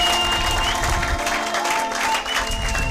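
Church congregation applauding steadily, a dense wash of many hands clapping throughout, with faint music tones in the background.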